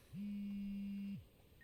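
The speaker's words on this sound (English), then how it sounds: "Das ist das Telefon, das Tsuruno mir gegeben hat" A mobile phone in the video game Like a Dragon Gaiden gives one steady electronic tone, low and smooth, held for about a second over a soft game ambience with a faint high whine.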